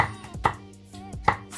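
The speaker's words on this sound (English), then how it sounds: "I just want to finely slice" Knife finely slicing food on a chopping board while making a chicken stew, with two distinct sharp cuts about a second apart, close and fairly quiet, with no voices.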